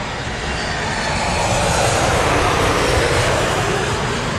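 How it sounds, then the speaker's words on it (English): Southwest airplane coming in to land at LAX, a loud, steady jet roar that swells slightly and holds close overhead, without any talking. "Another Southwest plane for you."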